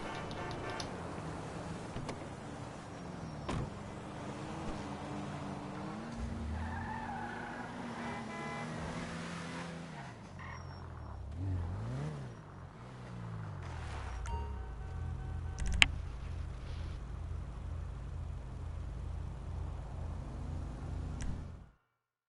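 A video game car engine drones steadily, rising and falling in pitch as the car accelerates and shifts, with tire squeals and skids cutting through, and a continuous low motor hum throughout with no talking.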